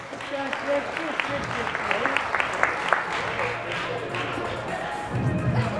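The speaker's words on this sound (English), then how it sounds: "Please, a round of applause for Georgia." An audience at a women's bikini fitness competition applauds a placing, steady clapping and some cheers running under an announcer's voice through most of the stretch.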